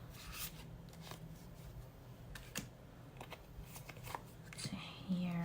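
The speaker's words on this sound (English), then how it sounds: "let's shuffle with intention." Tarot cards are shuffled up close, with soft riffling and rubbing bursts repeating in an uneven rhythm and a quiet background hum.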